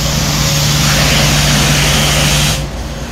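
A New Holland tractor is washed with a loud, close, steady spray hiss over a low droning motor hum. The spray cuts off abruptly near the end, leaving the quieter hum.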